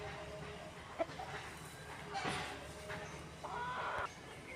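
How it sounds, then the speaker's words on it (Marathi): Chickens cluck softly in a quiet Konkan village yard, a few faint, scattered calls over low background hiss. "आहेत वरती पण कोंबड्या."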